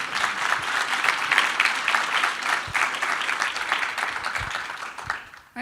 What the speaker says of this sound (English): just to ask for a round of applause for those excellent answers